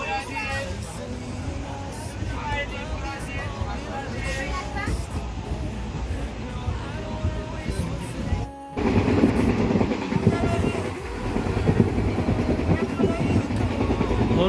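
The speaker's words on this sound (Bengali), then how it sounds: "এখন দেখতে পাচ্ছ তো ট্রেন ছেড়ে দিল।" A crowded train pulling away, heard from aboard: a continuous loud rumble and rattle, growing heavier partway through, under people talking nearby.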